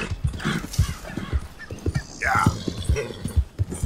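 A horse in Red Dead Redemption 2 clops along with steady, rhythmic hoofbeats and gives a short whinny partway through, with someone talking over it.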